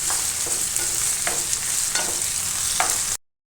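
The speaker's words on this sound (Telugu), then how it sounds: "వంకాయలు వేపుతున్నాం కదా" Brinjal pieces frying in hot oil with turmeric, a loud close sizzle broken by a few rhythmic stirring scrapes, ending abruptly in silence.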